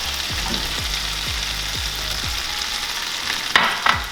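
Four tablespoons of butter sizzle in a pan sauce for fish piccata, a steady loud frying hiss with repeated soft stirring scrapes and a couple of sharper utensil clicks near the end.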